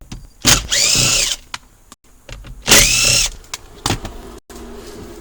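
A power driver with a 5.5mm bit whines in two short close bursts, then a brief third, while removing steering column screws from a 2008-2013 Ford Taurus or 2010-2013 Mustang interior, with light handling clicks between.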